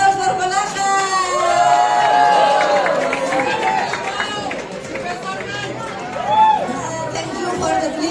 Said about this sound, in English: Give applause for Kolaka.